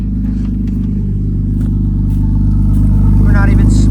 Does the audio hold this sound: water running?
no